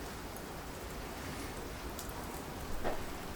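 Rain falls outside on a rainy day, a steady soft hiss of drops on surfaces that continues evenly throughout, faint and without speech.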